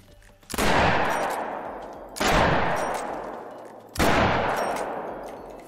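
Three loud rifle shots from theHunter: Call of the Wild, each a sharp crack with a long rolling decay, spaced roughly two seconds apart with no talk.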